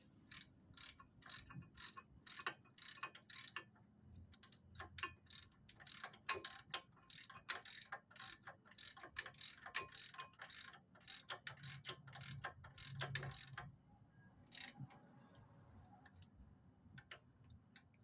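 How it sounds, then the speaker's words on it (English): A ratchet with a 21 mm socket snugs up the brake caliper bolts on a 2018 Chevy Equinox, giving close, rapid bursts of sharp clicking in repeated strokes with short pauses, alone for about fifteen seconds before fading. "Get our 21 socket again. Go ahead and snug them up."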